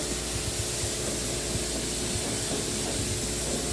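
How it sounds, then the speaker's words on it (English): A pressure washer rinses foam pre-treatment off car paint, a loud, steady spraying hiss with faint water spatter, close and continuous, no talking. "I'll come back with my pressure washer. Thank you, sir. And we'll rinse that off."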